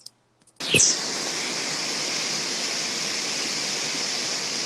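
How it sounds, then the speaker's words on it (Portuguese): Heavy downpour of rain falling during a conversation, bursting in abruptly after a brief near-silence and then holding as a dense, steady, loud hiss with no pauses. "É porque tá caindo um dilúvio aqui onde é que eu tô."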